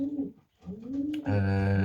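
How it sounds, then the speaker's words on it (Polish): A female pigeon coos close by, a low soft warbling call that rolls on steadily after a brief murmur and a pause. "Jest to samiczka z gołębi"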